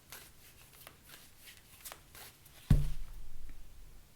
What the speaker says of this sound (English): We'll just give you a good shuffle.